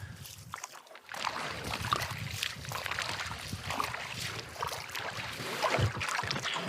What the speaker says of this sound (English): I might have to push the canoe quite a bit before it will float